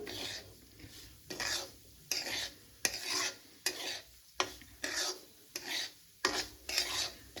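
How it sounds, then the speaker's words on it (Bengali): Rhythmic scraping strokes of a spoon stirring dry semolina roasting in a pan, about a dozen quick passes in a steady back-and-forth pattern. "সুজিটা ভাজা হয়ে গেছে"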